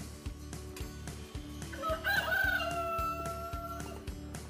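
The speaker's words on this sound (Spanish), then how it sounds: "Y sale el gallo y canta." A children's cuckoo clock with interchangeable animals plays a rooster crow melody, the tinny cock-a-doodle-doo rising over a steady, rhythmic ticking of the mechanism.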